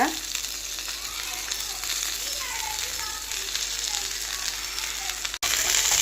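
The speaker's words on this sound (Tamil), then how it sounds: "நீங்க இந்த மாதிரி ஒரு தவால வச்சு ஃப்ரை பண்ணி எடுத்துக்கலாம்" Chicken pieces fry in a little oil on a flat tava with a loud, close, continuous sizzle. A brief dropout comes near the end before the hiss resumes.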